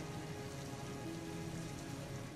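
Rain patters steadily in the Heavy Rain video game menu, a soft, even wash of drops that stays faint and constant through the brief stretch.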